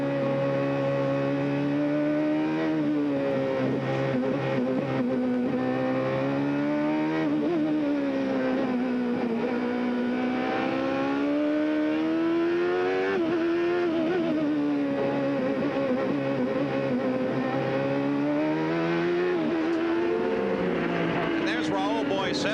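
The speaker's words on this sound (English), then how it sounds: "listen to the gears as they head now out of the chicane for the first turn" CART race car engines roar loudly and steadily at Portland in 1990, pitch climbing then dropping at several gear shifts out of a chicane, with a voice talking over the engine noise.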